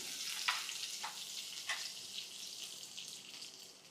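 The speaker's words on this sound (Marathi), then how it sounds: "2-3 चमचे तेल, मोहरी आणि मोहरी फुटल्यावर हिरवी मिरची" Mustard seeds and green chili frying in a few spoons of hot oil while cooking amti dal, giving a steady close sizzle with a few sharp pops from the seeds.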